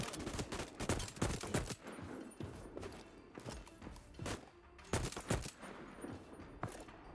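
Gunfire in the game Voidtrain comes as bursts of rapid, punchy shots in irregular volleys, loud and close, with short gaps between them.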